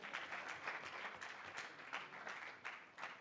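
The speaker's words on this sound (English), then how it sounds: "We also have Beth Michuma. Let's give her a round of applause." Audience applause for Beth Michuma at an arbitration conference in Nairobi, a steady, fairly faint patter of many hands clapping throughout.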